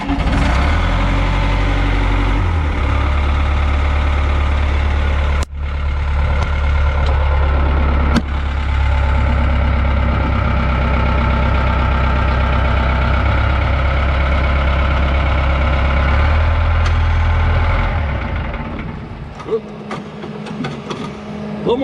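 A Cat D3B bulldozer engine idles with a heavy, steady low-pitched diesel drone, heard close and loud for a long stretch, with a couple of sharp clunks and a speaking voice over it before it eases near the end.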